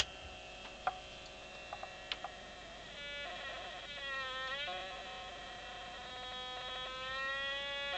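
An astable multivibrator circuit gives an electronic tone with warbling, chirping harmonics that shift and sweep, a few sharp clicks early on, steady and moderately quiet throughout.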